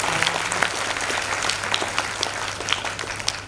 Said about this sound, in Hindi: एक बार जोर से आप लोग फिर से ताली बजा दीजिए।